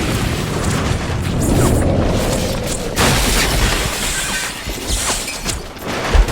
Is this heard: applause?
no